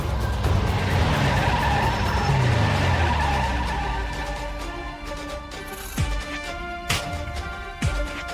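Car driven recklessly skids hard, with a loud, sustained tire squeal and engine roar that fade after a few seconds, followed by several sharp knocks and thuds, no voices.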